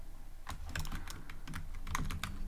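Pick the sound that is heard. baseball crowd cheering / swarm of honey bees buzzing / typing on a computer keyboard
typing on a computer keyboard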